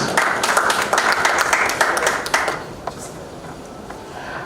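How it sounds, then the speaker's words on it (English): A round of clapping from a panel audience at a standards event, brisk close hand claps for a couple of seconds that taper off into quiet room noise. "Please a round of applause for her, please."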